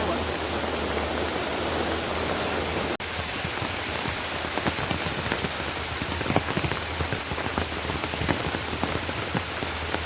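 Steady rain falls on a farm, a dense, even hiss of drops striking surfaces for the whole stretch, broken by a brief click near the start.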